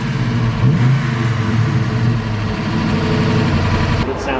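High-mileage GMC Sierra truck 6.0 V8 with a new cam runs close and loud, its faulty lifters rattling steadily like a loose muffler over the engine's drone, with a brief rise in revs.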